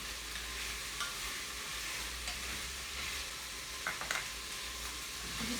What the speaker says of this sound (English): I'm scraping the bottom of the pan as much as possible, because we really want that caramelized